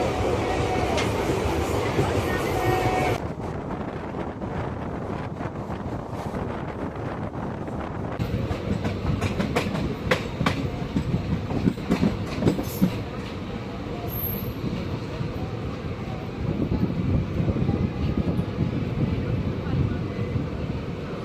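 The Saptagiri Express rolls along its rails with a continuous rumbling roar and rhythmic wheel clatter, heavy wind buffeting the microphone near the open carriage, and faint voices in the background.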